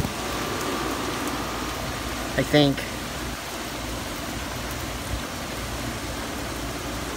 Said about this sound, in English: Ooh, it's raining even harder.